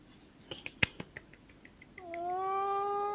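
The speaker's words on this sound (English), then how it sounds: "Meows." A cat meows in a long, rising, tonal call near the end, after a run of sharp ticking clicks at the start.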